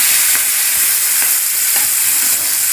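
Karonda berries and green chilies with cumin powder being stirred in a hot pan, a loud steady sizzle throughout with faint spoon scrapes, close up and without talk.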